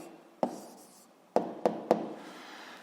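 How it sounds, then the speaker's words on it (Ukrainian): A pen writes on paper with a light continuous scratch, broken by four sharp taps as the tip strikes the page, up close and alone. "Пишемо відповідь"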